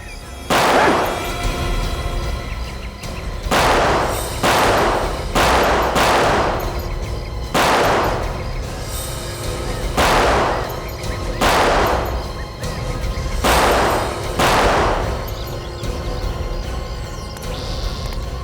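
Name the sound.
gunshots fired in a TV crime drama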